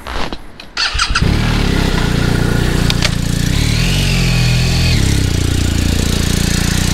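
A BMW R1250R motorcycle cruises at a steady speed through a gentle highway interchange exit curve, its engine droning loud and constant up close after a brief rustle at the start, with no talk.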